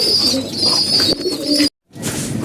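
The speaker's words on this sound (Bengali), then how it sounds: "এই যে দুটা কবুতর দেখতেছেন আপনারা" Two pigeons, one black and one red, coo up close in a loft, their soft repeated calls running steadily until a brief cutout of silence, then resuming.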